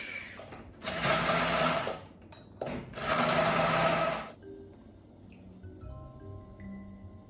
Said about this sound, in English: immersion blending some of the peppers